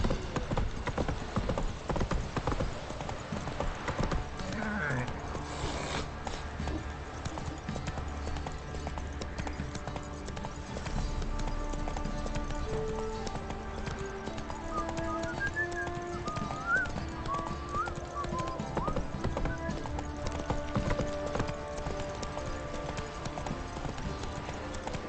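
A horse's hooves clip-clop in a steady galloping rhythm in the video game The Witcher 3, continuous and close, with occasional faint bird calls in the background.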